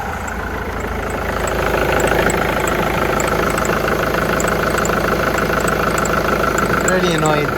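A 2002 Volvo S40 with a 1.8 engine idles steadily with a fault, a continuous close mechanical drone with a faint irregular tick running through it from start to end.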